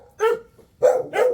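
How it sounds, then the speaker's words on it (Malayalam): Native dogs at a farmhouse give two or three quick barks close by, one single bark followed by a short double, with no talk. "കുറേ പട്ടികളുണ്ട് അല്ലേ"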